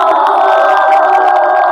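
Audience at a football league final award ceremony cheers and shouts loudly and continuously, a dense, steady crowd roar with scattered whoops throughout.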